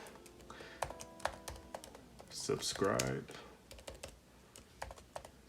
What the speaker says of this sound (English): I know I'm typing bad like a noob